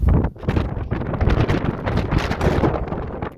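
Blustery wind gusting through a freshly opened window, loud buffeting rushes with crackling wind noise against the microphone, rising and falling in uneven bursts.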